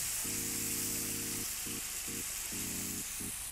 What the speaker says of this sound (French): maintenant je vais déglacer avec mon cidre basque